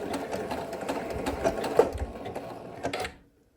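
A sewing machine stitches an applique tie-off, giving a close, rapid mechanical whir with a rhythmic stitch chatter that runs for about three seconds and then stops abruptly.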